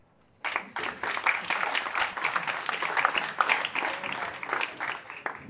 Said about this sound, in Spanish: Un aplauso sincero, honesto, a aquellas personas que simplemente están normal.